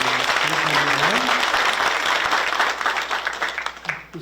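A church seminar congregation gives loud, dense applause of thanks to a pastor after a lecture, with a voice speaking over the clapping before it thins out and fades near the end.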